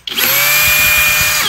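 A cordless power driver, stated as a Milwaukee impact driver, runs in one loud, steady burst of about a second and a half with a high whine, close by and without talk.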